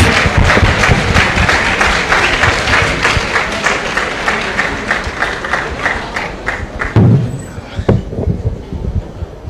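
Hall audience at a student night event giving a resounding welcome: loud, dense applause with cheering that runs for several seconds, then thins into scattered claps and a few thumps near the end.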